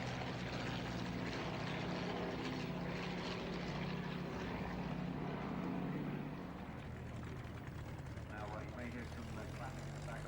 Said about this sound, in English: And this, of course, was the ultimate competition aircraft, the Jungmeister.